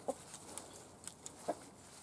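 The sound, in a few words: chicken clucking in a garden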